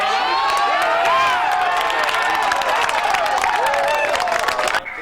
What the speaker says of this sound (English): Michigan highlights were greeted with applause.